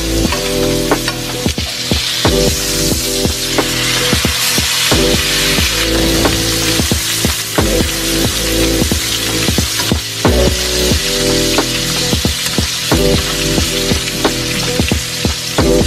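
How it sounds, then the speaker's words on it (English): Steaks sear loudly in foaming butter for a chaliapin steak don, a dense, close crackling sizzle broken by rapid rhythmic spoon taps and splashes as the tops are basted again and again. "While each side is searing, make sure you're basting the tops of the steaks with all that delicious butter"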